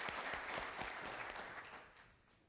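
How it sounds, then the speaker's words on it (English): Audience applause for conference panelists at a discussion event, a short burst of clapping from a room that fades out quietly over a couple of seconds. "Let's give the panelists a round of applause."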